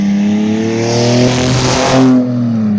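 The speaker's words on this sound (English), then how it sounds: "It's a Chrysler 300 with an exhaust lead." A Chrysler 300 with an exhaust leak revs hard nearby, its throaty exhaust rising and holding in a rough, droning roar.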